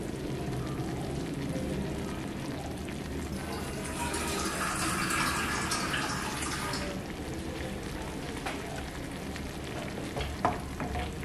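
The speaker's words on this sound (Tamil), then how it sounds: "இதில் கொஞ்சம் தண்ணி ஆட் பண்ணிக்கலாம்." Water added to a simmering garlic gravy (poondu kolambu) in a pan: a steady bubbling sizzle with a brief rush of pouring and stirring in the middle, close and fairly soft, with no voices.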